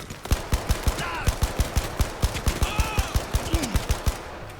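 Enemies blind firing guns in the VR shooter Blood and Truth, a rapid, evenly spaced string of sharp gunshots cracking through the whole moment, with faint voices and chatter in the background.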